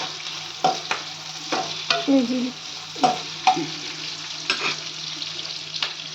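Onions frying in hot oil with cumin seeds added, a steady close sizzle broken by several spatula scrapes and knocks against the pan at irregular intervals.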